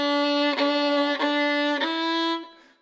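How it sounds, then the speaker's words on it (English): A single violin note bowed too close to the fingerboard, sustained with three bow changes marked by brief dips, sounding thin and somewhat airy before fading out; played alone and close up. "that they are playing too close to the fingerboards, and because of that, it sounds like this."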